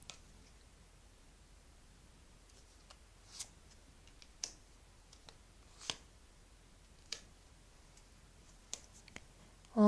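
Tarot cards drawn from a deck during a New Year fortune reading, heard as soft, separate card slides and flicks spaced a second or so apart against a quiet room.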